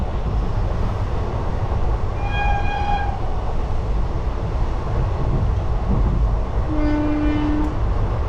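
Steady loud rumble of a passenger train running on the tracks between Azimganj and Krishnanagar, with tonal horn or whistle notes sounding briefly twice over the continuous noise.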